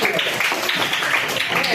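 A school class claps for a teacher at the end of an Islamic religious education lesson: dense, steady applause from a roomful of students, close and filling the whole short moment.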